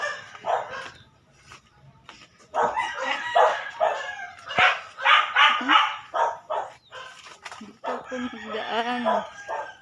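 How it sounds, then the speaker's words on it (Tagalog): Dogs bark in bursts amid a busy outdoor scene on the way to a market, with people talking nearby and a rooster crowing in the background. "yan ang mga aso"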